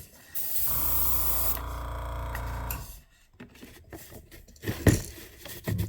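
An airbrush sprays paint onto a crankbait fishing lure in a steady, hissing burst of nearly three seconds, close and fairly loud, followed by quieter handling clicks and taps.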